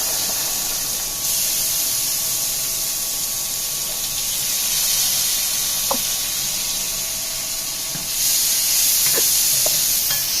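Onions frying in oil left over from frying rui fish, a loud, continuous hissing sizzle with a few faint clicks of stirring, surging at the start and again near the end.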